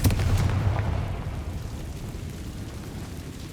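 A Confringo fire spell from Hogwarts Legacy bursts in a single loud, close explosion, its deep boom decaying into a rumbling tail over a few seconds.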